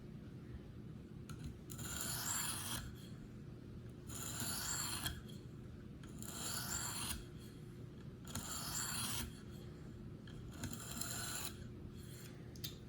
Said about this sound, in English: we're gonna flip it over and do 4 on this side with an additional downstroke